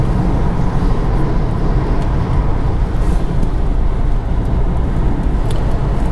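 A 2015 BMW 320d F30 diesel sedan accelerates in sport mode, a steady loud engine drone with road and wind rumble from inside the cabin, no talk.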